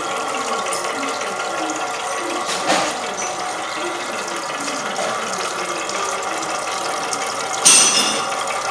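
A steady mechanical whir with a faint rhythmic ticking from a Stirling engine generator running continuously, with a couple of brief louder clicks near the end.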